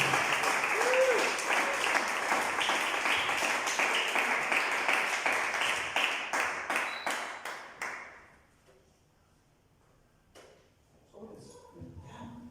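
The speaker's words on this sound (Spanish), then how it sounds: "vamos a recibir al hermano Rogelio con un aplauso de amigos" A church congregation at an evening testimony service claps steadily to welcome a brother, dense applause under a faint voice that tapers off after about eight seconds, followed by near silence and a few scattered sounds.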